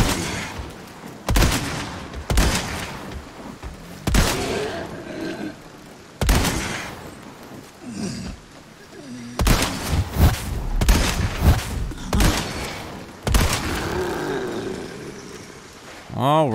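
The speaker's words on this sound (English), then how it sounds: "let's go ahead and test out the Stingray on a brute" Repeated rifle shots from the Stingray firing at a brute enemy in Resident Evil 4 Remake, sharp loud cracks spaced a second or two apart, some in quick pairs, over game ambience with a growl at the end.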